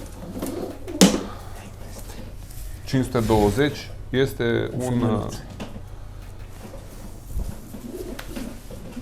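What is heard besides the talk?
pigeon cooing at pigeon auction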